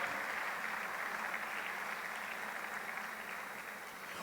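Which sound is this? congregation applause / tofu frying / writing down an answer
congregation applause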